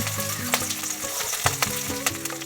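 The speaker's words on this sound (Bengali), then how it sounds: "এই তেলের মধ্যে আমি ক্যাপসিকাম দিয়ে ভেজে নেব" Capsicum frying in hot oil, a steady close sizzle with a few sharp crackles and clinks throughout, no voices.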